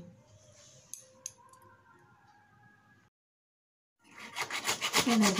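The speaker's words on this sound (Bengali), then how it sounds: "টমেটোটা ঘষছি, পেঁয়াজটা আমার ঘষা হয়ে গেছে, আদা রসুন এই যে আমি সব কটা এখানে এর মধ্যে পেস্ট করে নিচ্ছি" Tomato is rubbed against a grater in quick, raspy back-and-forth strokes near the end, after a quieter stretch of faint kitchen sounds and a short silence.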